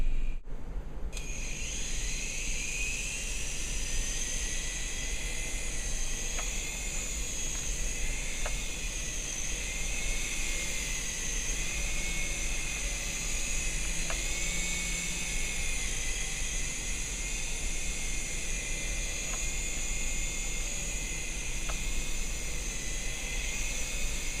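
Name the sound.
toy RC helicopter rotor spinning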